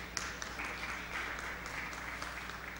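A conference audience at a business session applauds for the session moderator, a continuous, even wash of many hands clapping, fairly faint and distant, with a low steady hum underneath.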